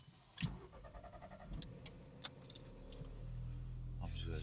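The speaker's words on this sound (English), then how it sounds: "I'm just gonna turn on my car" A car is started: keys jangle near the ignition, a few clicks follow, then the engine turns over and settles into a steady idle rumble that builds toward the end, with someone talking over it.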